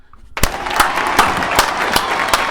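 Applause effect made of evenly spaced hand claps, roughly two or three per second, loud and close over a hissy crowd-like wash.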